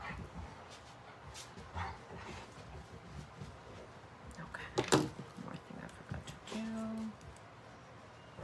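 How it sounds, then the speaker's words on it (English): Dogs playing and barking indoors while knocking objects around, heard as scattered faint yips and a brief sharper bark in the middle, under a steady background with a voice present. "the dogs now are playing. And they're knocking my stuff around."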